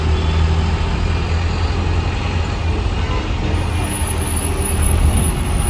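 MSRTC BS6 Lalpari bus arriving at a busy bus stand in Ahmednagar, a loud close diesel engine rumble with steady idling drone and no clear talk over it.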